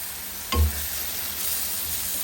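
Spice paste sautéing with a little water in a pan for pangas fish bhuna: a continuous bright sizzle with one quick scrape and clunk, close and steady, with no voices.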